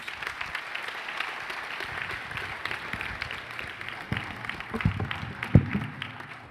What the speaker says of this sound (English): Let's give our gubernatorial candidates a round of applause.